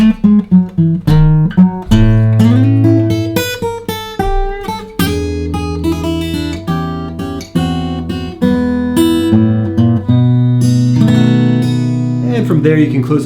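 A fingerstyle acoustic blues groove in E plucks a steady rhythm of bass notes and licks, closing with a turnaround back to E, close and continuous without talk.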